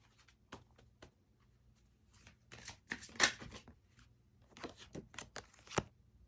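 Tarot cards are shuffled close by and quietly, with soft irregular riffles, flicks and slides rising into a couple of busier bursts over a hushed background, no talking.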